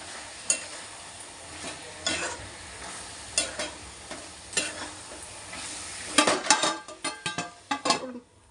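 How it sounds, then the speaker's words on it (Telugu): Tomato being stirred into a chicken curry pan: a soft sizzle under irregular spoon scrapes and knocks against the metal, which quicken into a busy run of strokes near the end. "ఇప్పుడు నెక్స్ట్ మళ్ళీ మనం కలుపుకోవాలి."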